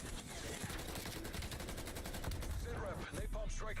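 Dense gunfire from the video game Warzone, with rapid bursts and single shots crackling loudly and continuously over game music, with a brief lull near the end.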